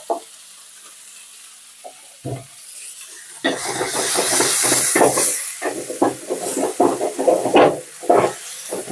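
Tomato fries in oil in a pan for a chicken gravy. Near-quiet at first, then a loud, close hissing sizzle breaks out with uneven crackles and stirring scrapes.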